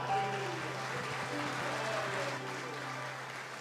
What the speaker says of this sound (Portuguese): aplaudimos ao Senhor